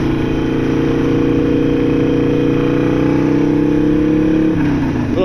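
A motorcycle engine drones steadily and loudly while riding on a country road, holding a constant pitch with a slight shift near the end.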